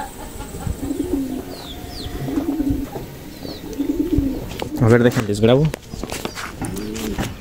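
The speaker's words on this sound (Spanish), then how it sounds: "Tengo unas palomas ahí que ahorita se las muestro, son colipavas." Fantail pigeons coo in soft, repeated low rolling calls, close by in a rural yard, with a louder burst of cooing midway, faint chirps in the background and a person speaking briefly.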